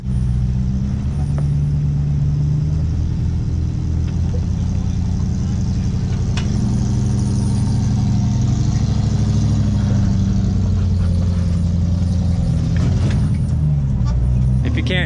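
The 4.7-liter V8 of an off-road vehicle runs with a deep, steady low rumble close by and loud, while voices talk over it throughout.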